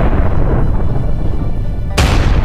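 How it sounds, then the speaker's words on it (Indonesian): Bombs go off in the ninja platformer game Ninja Arashi: a loud, continuous rumble of blasts, with a sharp fresh burst near the end. "Lagi-lagi bom, bom"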